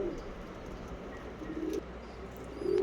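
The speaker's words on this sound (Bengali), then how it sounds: "পিওর মঙ্গলাগিরি লাইনের পায়রা" Mangalagiri line pigeons held in a net enclosure give low, soft cooing that comes and goes over steady background noise, a few murmured coos near the end, no talking.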